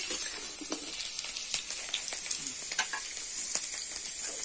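Potato fries in hot oil with a dense, continuous crackling sizzle, broken by frequent sharp pops and the occasional scrape of a stirring utensil, close up and without any voice.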